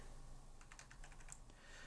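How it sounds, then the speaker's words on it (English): Quick, light keystrokes as numbers are typed on a computer keyboard, a brief irregular burst of clicks that is faint and close, with no talking. "So I'm just going to start typing in numbers."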